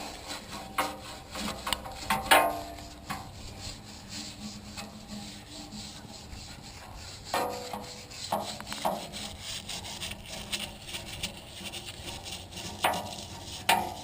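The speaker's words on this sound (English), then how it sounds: "A little plastic brush right here. I get in there with the brush," Plastic brush scrubbing degreaser across a backhoe hood, close rasping strokes in irregular bursts with brief pauses and no talk.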